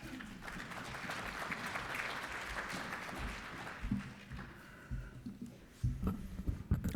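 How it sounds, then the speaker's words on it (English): Audience applause greeting a speaker at a plenary session, a brisk burst of clapping that fades after a few seconds, followed by thumps and handling noises from the stage. "Please put your hands together for Mr."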